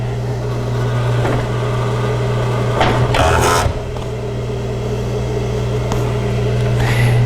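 A Juki serger stitching and trimming fabric for a small pouch, a steady mechanical hum with a rapid whirring drone, briefly louder in a burst of clatter midway, close and without talk.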